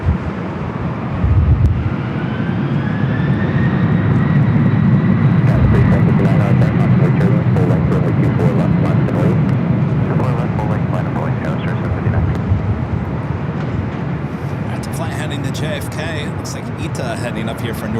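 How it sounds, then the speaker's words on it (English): A Delta Airbus A350-900 jet airliner lines up and takes off at LAX, a loud, broad engine roar swelling and holding steady for the whole stretch, with faint radio talk in the background. "lining up here for Northside at takeoff in the A350-900, the flight heading back to Rome"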